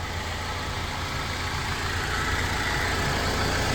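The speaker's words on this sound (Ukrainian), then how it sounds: "І на завершення покажемо вам роботу двигуна." A 2012 Mercedes-Benz van engine with 120,000 mileage idles steadily and close by, a continuous even rumble with no other sounds.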